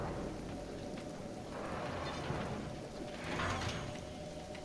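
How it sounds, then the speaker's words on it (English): Acid rain falls in the video game Kenshi as a steady, dense hiss of rain that stays at an even level, with a slight swell near the end. "Nothing like standing in the acid rain."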